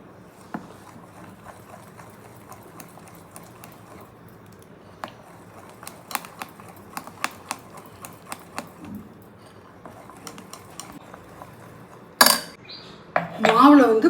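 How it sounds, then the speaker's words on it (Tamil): Tomato paste being mixed into dosa batter, heard as quiet irregular clinks and taps of a utensil against a bowl over a soft background, ending in a few louder knocks. "இப்போ இதை நல்லா கலந்துக்கலாம் மாவோட ஒன்றா"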